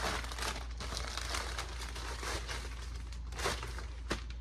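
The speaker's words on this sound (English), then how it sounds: "So just wrapping them and then I'm going to slide them in this flat rate envelope" Packing material crinkles and crumples steadily as items are wrapped for shipping in a flat rate envelope, close and continuous with a few sharper rustles and no talking.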